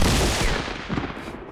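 Rapid gunfire from the video game Fortnite, a dense burst of loud overlapping shots that fades out within about a second and a half, with no speech.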